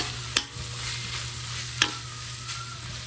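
Bamboo shoots fry steadily in a pan, a continuous sizzle with a couple of sharp clinks from stirring, heard close with no talking.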